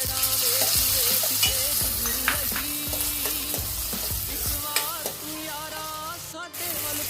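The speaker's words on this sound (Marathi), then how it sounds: "आता यामध्ये आपण बारीक चिरलेले टोमॅटो ऍड करणार आहोत." Onion and finely chopped tomatoes fry in a pan for a Marathi mixed gravy, giving a steady close sizzle broken by repeated scraping strokes of a stirring spoon.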